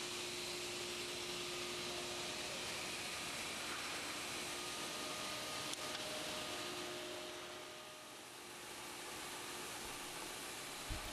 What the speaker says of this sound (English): We'll again try and show you just how clean this panel saw is cutting.